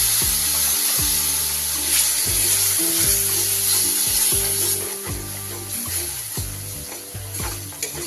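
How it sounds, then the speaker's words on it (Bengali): Spice paste of chili, coriander and cumin powders fries in oil in a pan for a prawn dish, a steady sizzle broken by regular scraping strokes of a spatula, close and fairly loud with no talk. "ভালো করে মশলাটা কষিয়ে নেব।"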